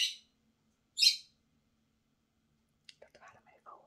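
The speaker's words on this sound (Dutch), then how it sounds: "Dat waren mijn vogels." Pet birds let out two sharp, high chirps a second apart, then a scatter of softer twittering calls follows after a quiet gap, heard close and alone.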